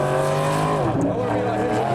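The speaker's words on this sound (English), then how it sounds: "That is all 4 wheels spinning." A four-wheel-drive car spins all four wheels while skidding at an auto show event, a loud sustained engine roar with shifting pitch and tire noise, close and continuous, with voices mixed in.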